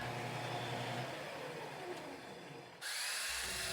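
A Shopsmith drills holes in metal lubricated with 3-in-1 oil, a quiet, steady motorized whine that shifts in pitch partway through and then resumes more brightly.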